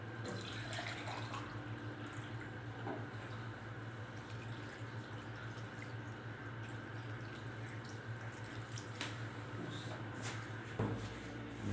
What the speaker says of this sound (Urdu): 2 لیٹر پانی ڈالنا ہے بس۔